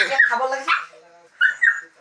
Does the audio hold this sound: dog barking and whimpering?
yes